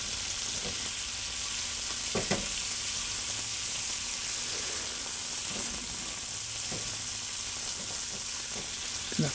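Halved shrimp sizzle and fry in a hot pan, a steady crackling hiss with a few sharper pops and clinks scattered through, heard alone without talk.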